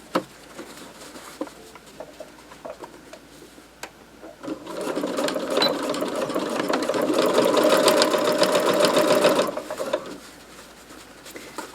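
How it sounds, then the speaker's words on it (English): A sewing machine stitches through a rice-filled fabric heat pad. Scattered handling noises come first, then the motor runs in a steady, fairly loud whir for about five seconds before it stops. "I'm just going to keep sewing"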